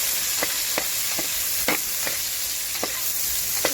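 Chopped ginger and garlic stir-fry in a pan alongside onions for a soya chunk dish, holding a loud steady sizzle with regular spatula scrapes about every half second.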